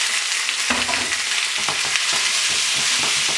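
Artichokes hit a hot pan with herbs and garlic, crackling into a loud, busy sizzle broken by repeated stirring scrapes and bubbling pops, with no one talking.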